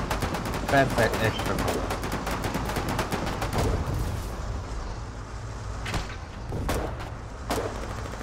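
8mm gunfire in the Foxhole war game, a dense rapid burst of automatic shots at the start, then a few isolated cracks later, with a voice speaking briefly over it.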